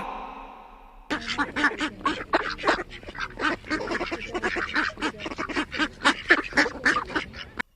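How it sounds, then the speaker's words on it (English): Rapid, continuous quacking from ducks, loud and close, a busy cluster of calls with no pauses. "D for duck."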